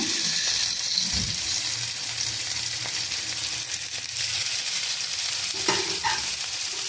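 A potato curry for chapati fries in a pan while being stirred, a continuous loud sizzle broken by scraping spoon strokes close by.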